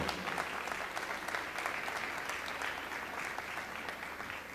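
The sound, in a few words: audience applause for panel speakers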